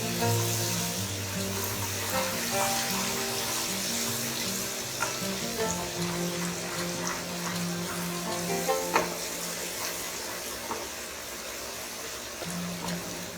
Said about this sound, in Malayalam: ഇത് ഈ എണ്ണയിൽ നല്ലപോലെ മിക്സ് ചെയ്ത് ഒന്ന് കുക്ക് ചെയ്യണം